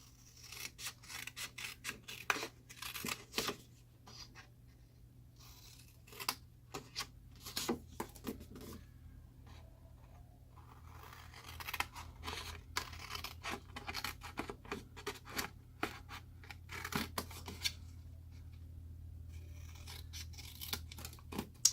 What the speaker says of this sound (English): So we need to cut these 2 rectangles on either side.